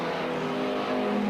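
A rallycross race car at Lydden Hill drives through the chicane, its engine droning steadily and fairly close, with a sustained tonal hum.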